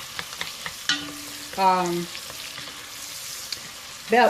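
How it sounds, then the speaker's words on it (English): Onions sauté in a pan of oil and bacon fat with a steady low sizzle, broken by stirring scrapes, a brief squeaky tonal rasp and a louder clatter at the end. "I'm going to saute this up until my onions become translucent for a couple of minutes"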